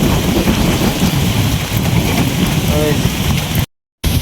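Heavy rain pours down during a flood, a loud, continuous close drumming with some wind, cut off by a brief dropout near the end.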